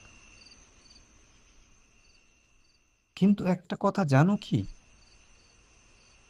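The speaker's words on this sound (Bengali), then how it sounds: "চারপাশে ঝিঝি পোকার ডাক" Crickets chirp at night in a forest by a riverbank, a faint steady trilling that runs through the quiet first half before a voice cuts in and briefly covers it.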